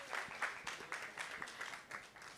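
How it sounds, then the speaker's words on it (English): Audience applause at a STEM summit, a faint, steady patter of many hands clapping for a couple of seconds. "I think you all deserve a round of applause as well."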